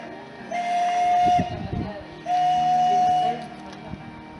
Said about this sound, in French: Le premier train était presque déjà là.